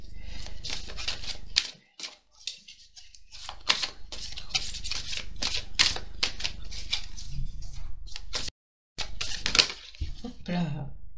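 Tarot cards for a Scorpio reading are shuffled by hand in quick crisp riffling bursts with short pauses, close up, while someone talks quietly.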